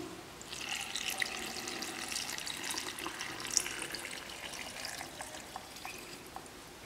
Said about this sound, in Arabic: بعد ما عمرت الزيتون والحامض كنزيد هذا المحلول الملحي